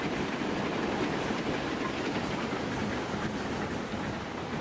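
A Super-Duchess steam train runs in Transport Fever 2, giving a steady, loud rolling rumble and rail clatter that holds without a break throughout.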